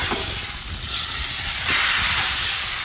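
A country-fried hamburger steak sizzles on a Blackstone griddle over a low burner, giving a steady close hiss that swells louder partway through, with no talking.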